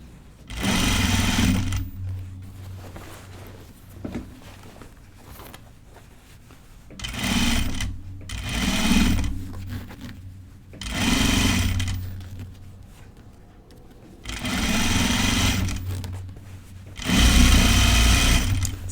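A sewing machine stitches the side seam of men's pants with 5/8 inch seam allowances, running in five steady bursts of whirring separated by short pauses, close and clear with no talking.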